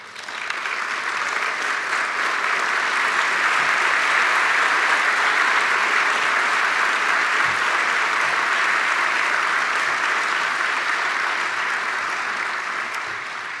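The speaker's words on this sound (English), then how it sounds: "Y'all can clap longer for him if you want" Long, sustained audience applause fills a hall at a Boys Club 50th anniversary gala, dense and even clapping holding steady for over ten seconds before easing slightly at the end.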